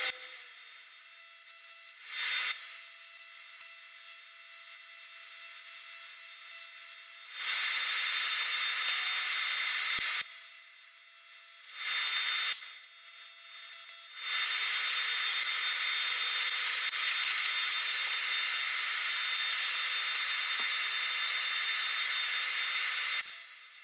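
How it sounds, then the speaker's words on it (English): Aluminum tabs are welded onto a motorcycle frame, a steady hissing welding buzz running in several long bursts separated by brief pauses, close and fairly loud. "I'm gonna go ahead and weld those on now."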